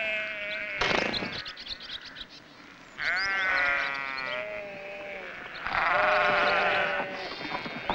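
Sheep on a farm bleat loudly and close by in several long, wavering calls, with quieter farmyard background between them.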